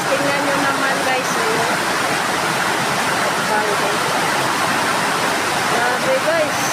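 Strong floodwater rushing past in a steady, loud roar of churning water that fills the whole clip, with faint voices beneath the noise.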